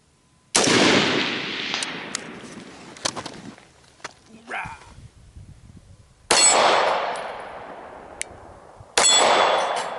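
A rifle with a 13.7-inch barrel fires a cold-barrel shot at an outdoor range, a sharp loud crack followed by a ringing clang off a steel target; two more loud shots with bright ringing decay follow later.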